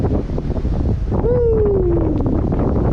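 Strong wind buffets the microphone during a fast e-bike ride on an Anaconda Bolt, a loud steady roar filling the whole stretch, with a brief rising whistle-like tone partway through.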